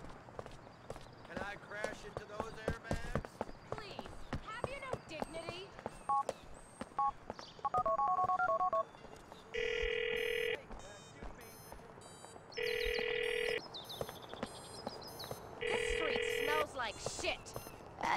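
Phone dialing and ringing in the video game GTA 4: a burst of keypad tones, then three evenly spaced electronic ring bursts, loud and clear over game background noise and speech.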